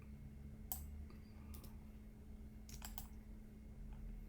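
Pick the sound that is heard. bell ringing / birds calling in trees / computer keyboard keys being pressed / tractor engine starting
computer keyboard keys being pressed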